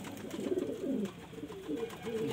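Low, throaty cooing from Chinese and desi pigeons rolls on steadily and close, in repeated soft murmuring phrases over a faint background hum.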